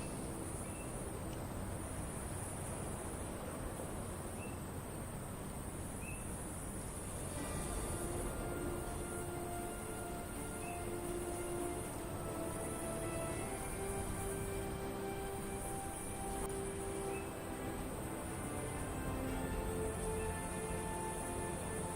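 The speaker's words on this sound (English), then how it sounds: "Do I hear, like, crickets in the background and, like, jungle sounds or something?" Faint, steady cricket-like chirring and jungle ambience inside a U-boat video game, a quiet continuous insect drone with scattered tonal calls and no talk.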